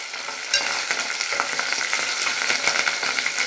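Onion paste stirred in a hot frying pan, a steady close sizzle with scraping strokes running continuously for a few seconds.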